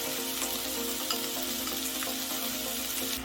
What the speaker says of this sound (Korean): 기름 두른 팬에 고기, 양파, 파, 양념장 넣고